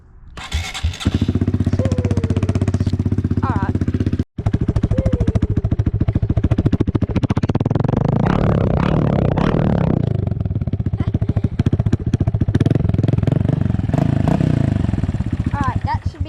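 A dirt bike engine idles steadily to warm up its oil, loud and close with a continuous rumble and one brief cut near the start. Occasional clatter and someone talking sit over the running engine.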